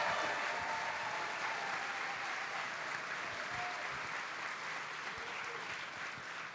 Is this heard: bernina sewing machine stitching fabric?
no